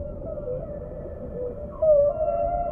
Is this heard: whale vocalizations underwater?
yes